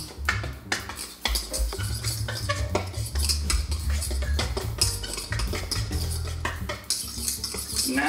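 A fork mixes dry cookie ingredients in a bowl, giving close, continuous rapid clinking and scraping of metal against the bowl with a few louder taps, and no one speaking.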